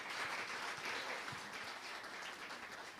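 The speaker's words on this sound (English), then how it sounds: "Let's give yourselves a wonderful round of applause." An audience at an entrepreneurship summit applauding, a faint, dense wash of clapping that holds steady for a few seconds without a clear start or end.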